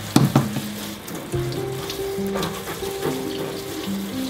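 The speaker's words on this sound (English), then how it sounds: "I just will give it a good rinse with water." Running water splashes over a thrift store basket during a rinse, a steady hiss of spray and trickle close by with a few brief clinks near the start.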